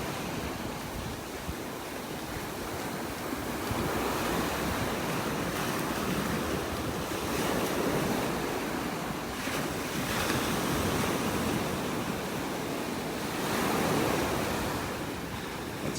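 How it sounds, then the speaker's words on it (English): Ocean waves break and wash along a beach in North Naples, Florida, the surf rising and falling in slow swells over a steady wind-buffeted roar, with no voices. "stop here for a minute and listen to some of these waves."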